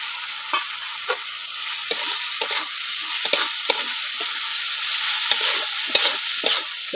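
A large chopped tomato fries with spices in a pan for a Bengali-style patol dish, hissing in a bright continuous sizzle while a spatula taps and scrapes the pan at irregular intervals, close and alone.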